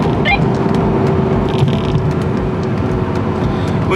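A BMW E46 M3 accelerates hard in gear with a loud, close engine roar. Dense mechanical and wind noise fill the short burst.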